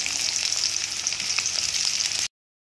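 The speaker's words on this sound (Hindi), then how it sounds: "तो अब मैं इसके अंदर ओनियन ऐड कर दूँगी और इसको अच्छे से" Chopped onions sizzle steadily in hot oil in a pan for paneer korma, a dense continuous frying hiss that runs alone for about two seconds before cutting off abruptly.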